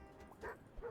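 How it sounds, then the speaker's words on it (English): Small dog yips and barks a few times in short, quiet bursts inside an airport baggage factory video game, set against a low background hum. "There's a little barking going on there."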